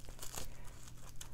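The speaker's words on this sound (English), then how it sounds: "just take your scissors and cut around it" Scissors cutting around a sheet of bubble wrap for slow stitching, giving soft, continuous crinkling and crackling of plastic with faint snips, close and quiet, with no talking.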